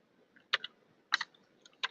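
Three short clusters of keystrokes on a computer keyboard, quick sharp clicks in small groups separated by pauses, close and clear against a quiet background.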